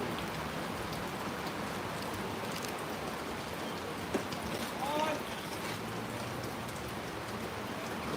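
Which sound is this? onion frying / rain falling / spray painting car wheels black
rain falling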